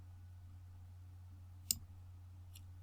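A computer mouse gives one sharp, close click over a low steady hum, followed by a fainter second click a moment later.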